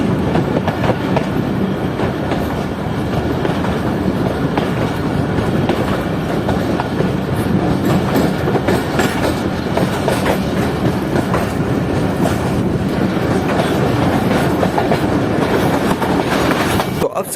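The Jaffer Express, a Pakistan Railways passenger train, runs loudly and steadily on its rails, with continuous rumble and clickety-clack heard from on board throughout.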